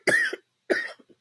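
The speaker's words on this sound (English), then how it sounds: "my nighttime coughing done started" Two separate bouts of coughing at close range, each a harsh burst followed by smaller trailing coughs, with a short quiet gap between them and no talking.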